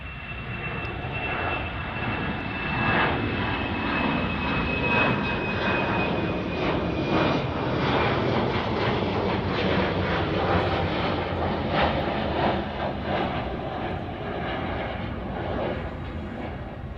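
Jet airliners departing Chicago O'Hare airport produce a sustained, loud engine roar that holds steady for the whole stretch, broad and rumbling at a moderate distance, with no voices.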